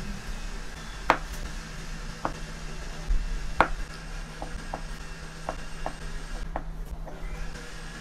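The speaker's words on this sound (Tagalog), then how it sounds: "pagkatapos ay ito hihiwain ko ng cubes na maliliit" Canned beef loaf being cut into small cubes for a vegetable soup, a sparse series of sharp knife taps on a board spaced irregularly, with faint rubbing between them and no talk.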